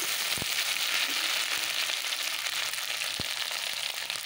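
Chopped onion sizzling in hot oil in a pan, with green chilli ground on a stone slab added, a steady close frying hiss and a couple of soft knocks.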